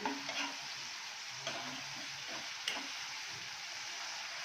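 Mutton kheema with ginger garlic paste fries in a pan with a soft, steady sizzle, broken by a few scraping stirs; faint and close, with no voices.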